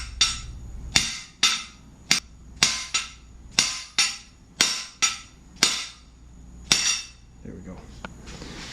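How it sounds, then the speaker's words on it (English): Sharp metallic hammer taps on an LS 5.3 engine during a build, about a dozen evenly spaced ringing strikes, close and loud, with a brief softer rustle at the end. "I'm just gonna go tapping"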